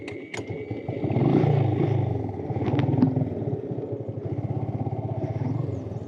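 A motorcycle engine chugs and revs close by while riding along a muddy road, with clattering bumps and uneven throttle surges throughout, no talk.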